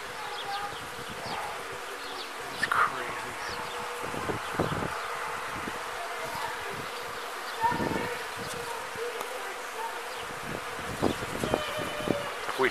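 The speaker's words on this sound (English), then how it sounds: "There is an infestation of bees. They are everywhere." Bees swarm around a tree in an infestation, feeding on its pollen, making a dense, constant buzzing that hums close by throughout, with occasional rustles and louder passes near the listener.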